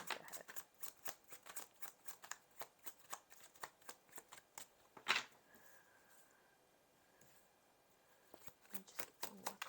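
A deck of cards being shuffled during a tarot-style reading, with quick riffling bursts, a pause with faint background hum, then more rapid shuffling toward the end.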